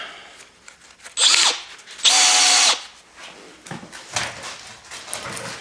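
An electric drill spins up in two short bursts, loud and close, with quieter handling noise between and after.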